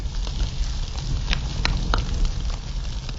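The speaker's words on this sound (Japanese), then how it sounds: "焚き火の火がパチパチという音を聞く。" A campfire burning with soft continuous rustle and scattered sharp crackles and pops, steady and close, with no talking.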